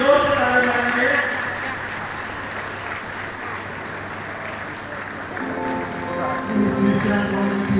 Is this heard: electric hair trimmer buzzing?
no